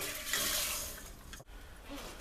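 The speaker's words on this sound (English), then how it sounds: "you wanna put your 2 cups of water in the pan" Two cups of water are poured into a cooking pan, a close, steady splashing pour that briefly cuts out near the middle before resuming more quietly.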